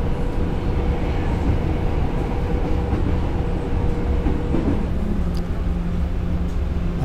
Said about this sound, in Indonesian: Perjalanan KRD Kedung Sepur telah tiba di stasiun akhir, stasiun Ngrombo.